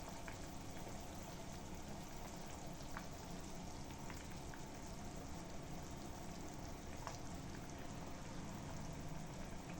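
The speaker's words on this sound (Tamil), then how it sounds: "இப்போ பார்த்தீங்கன்னா குழம்பு நல்லா கொதிச்சிருச்சு." Village fish curry boiling in a pot, heard as a faint, steady bubbling and sizzling texture with occasional small pops, continuous and alone with no talk.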